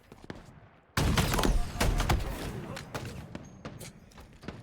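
Rapid bursts of gunfire from the video game Halo Infinite erupt suddenly after a quiet start, with dense volleys and sharp cracks that then thin to scattered shots.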